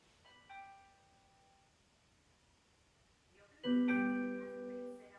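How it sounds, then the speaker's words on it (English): A front-door doorbell chimes twice: a softer ringing tone that fades early on, then after a pause a louder, fuller chime that rings out and decays, with no voices over it. "Someone's at the front door doorbell."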